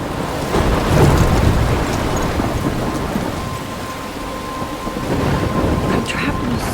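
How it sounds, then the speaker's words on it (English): A thunderstorm in the video game Life is Strange: heavy rain hisses steadily while low thunder rumbles roll underneath, with scattered louder bursts and spatters, continuous and enveloping. "I'm trapped in a storm?"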